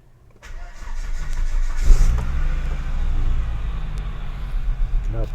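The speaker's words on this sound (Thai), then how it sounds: "ผมจะลองสตาร์ทดู" A Thai 850t vehicle's engine is started: a brief starter crank catches into a loud, steady idle that runs close by for several seconds, with a few small clicks and no talk.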